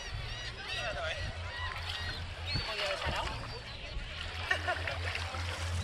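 Birds, likely ducks or geese, honk and call repeatedly near the ocean in Norway, with several overlapping squawks over steady background noise and a low engine-like hum; people talk nearby.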